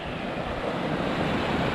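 Water rushes steadily out through an old canal spillway into a river, a dense, continuous roar close by with no breaks and no voices.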